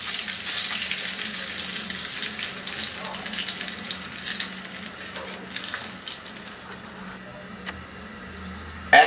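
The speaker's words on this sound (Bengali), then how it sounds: "তো বেগুনটা আমার সুন্দরভাবে ভাজা হয়ে গেল।" Eggplant slices fry in hot oil with a steady close sizzle and crackle that gradually eases off, ending in a brief clatter.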